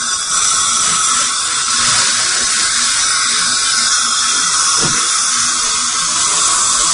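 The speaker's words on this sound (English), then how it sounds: "This is a torque wrench at 30 Newton centimeters." A dental implant torque wrench tightens a 7 mm abutment to 30 Ncm, with a steady, loud high whine running throughout and a brief click near the end, and no voices.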